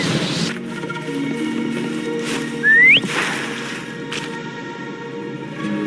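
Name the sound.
character whistling to call a creature in video game Wuthering Waves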